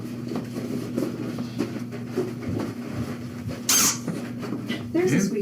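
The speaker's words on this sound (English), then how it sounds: "There's a squeaky toy." A dog's squeaky toy squeaks in short, sharp bursts, one loud squeal standing out near the end, over a steady low hum and scattered handling noises in a shelter setting.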